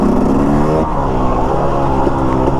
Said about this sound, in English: we're riding a two-strokey